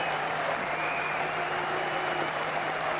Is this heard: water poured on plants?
no